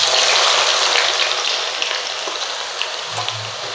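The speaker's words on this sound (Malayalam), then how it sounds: "ഇനി ബാക്കിയുള്ള സവാളയും കൂടി നമുക്ക് ഇതുപോലെ ഒന്ന് വറുത്തെടുക്കാം." Thinly sliced onions deep-fry in hot oil for a vegetable biryani, a close, dense sizzle and crackle like heavy rain, loud at first and easing slightly as it continues.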